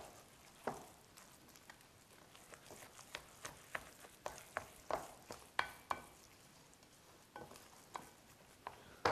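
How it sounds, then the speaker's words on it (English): Raw cacao chocolate mixture being stirred by hand in a bowl after a drying powder is added, giving a steady run of soft scraping, clicking stir strokes at close range with no talking. "And you just give it a mix."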